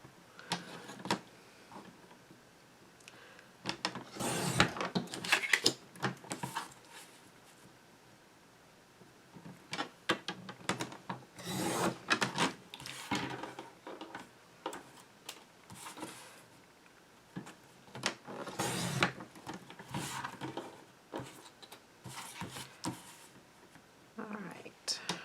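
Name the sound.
cutting paper around letters for a baby card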